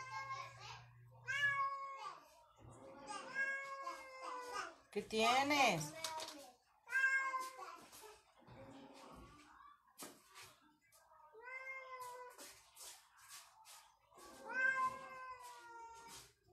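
A cat meows repeatedly, drawn-out, insistent and fairly close, in a series of calls spread across the whole stretch, mixed with a voice and someone speaking.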